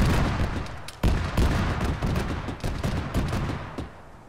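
Autocannon fire in a military video game: dense, rapid bursts of heavy shots with sharp transients, loud and close, continuing for several seconds before easing off at the end.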